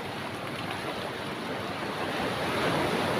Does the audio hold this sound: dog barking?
no